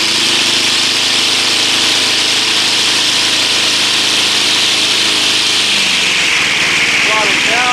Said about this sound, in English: let's see if we can get this thing to start